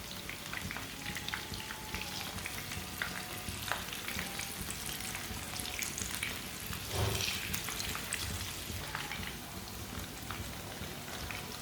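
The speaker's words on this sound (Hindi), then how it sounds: "अब दोनों साइडों से ना फ्राई कर लेना, ऐसे ब्राउन कर लेना" Sliced eggplant fries in hot oil in a pan, giving a steady, close crackling sizzle with dense spitting pops throughout and no voices.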